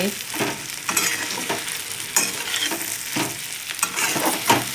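Stuffed okra (bharli bhendi) sautéing in a pan, a continuous close sizzle with repeated bursts of spoon stirring and scraping every second or so, with no talking.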